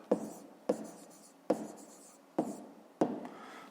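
Pen strokes on paper during a fifth-grade maths exercise, five distinct scratchy bursts about every 0.7 seconds, close and clear with no talking.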